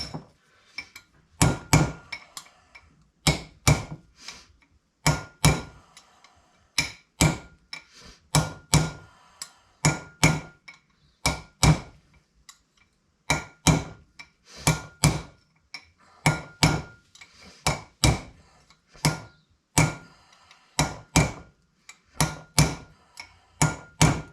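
A metal punch is tapped again and again against a bearing race on a 1939 Chevrolet. The sharp, ringing strikes come close by in irregular bursts, with short pauses between the groups of hits.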